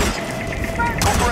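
Gunfire in the Hitman video game cracks out in a quick burst of shots under shouted voices, loud and close.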